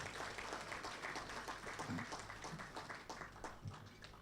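Audience applause at a promotional campaign launch event in Cameroon, fairly faint and somewhat distant, with a few louder individual claps standing out in the steady patter.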